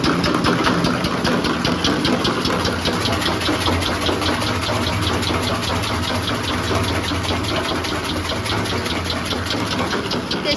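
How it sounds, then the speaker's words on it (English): A pump on a 300L perfume making machine runs steadily, a loud, close mechanical drone with a fast regular pulsing beat that holds unchanged throughout. "Turn on the pump switch."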